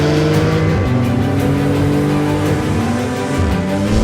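A 2018 Porsche 911 GT2 RS with 700 horsepower drives on a race track, its engine droning loudly and close throughout, with the pitch rising and falling as it shifts and accelerates.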